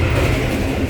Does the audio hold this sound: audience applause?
no